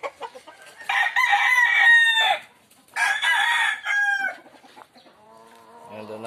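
Yellow legged Dutch gamefowl rooster in a breeding flypen crowing twice, loud and close, each crow a long ringing call with a short gap between.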